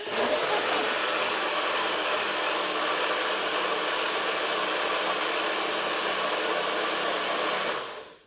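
A blender whirs loud and steady for about eight seconds, blending a homemade Frosty shake with a smooth roar and no icy chopping, then cuts off abruptly.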